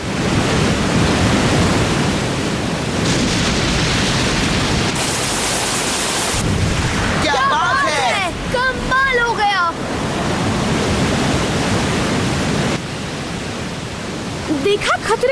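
Cartoon sea surf roars loudly and steadily as waves wash in, with a brief heavier crash midway and a passage where voices speak over the churning water before the wash resumes.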